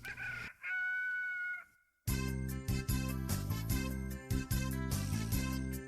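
A rooster crows one cock-a-doodle-doo at the start, close and clear, and then a bouncy musical tune takes over with steady rhythmic notes.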